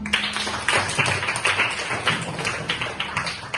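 Classroom applause for a group session, a dense, steady patter of many hands clapping fairly close for several seconds with no talk over it.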